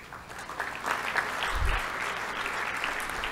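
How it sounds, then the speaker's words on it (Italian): Audience applause at a doctoral graduation ceremony, a steady crowded patter of clapping that swells slightly in the middle, moderately distant in a large hall. "Applausi."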